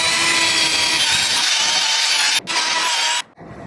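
Close, loud sanding rasp on a Yamaha FZ6R motorcycle headlight lens, a steady gritty scrubbing that cuts off briefly near the end, then stops abruptly.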